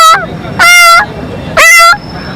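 A young boy imitates a cat's meow with his voice: a brief opening cry followed by two drawn-out, bending mews, loud and near, separated by short pauses.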